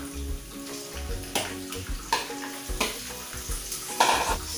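A pork chop goes into a pan with potatoes for Filipino adobong puti, giving a watery, hissing sizzle with some stirring scrapes under quiet background music.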